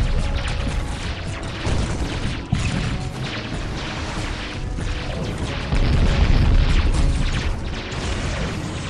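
Artillery fire in the Dawn of War strategy game, rolling booms and crashing impacts layered over constant battlefield rumble, with a sharp hit near the middle and heavier blasts toward the end.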